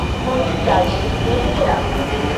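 A metro rail train runs nearby on an elevated or underground line, a steady loud rumble with faint rhythmic rail clatter and a couple of higher squeals, with people's voices mixed in.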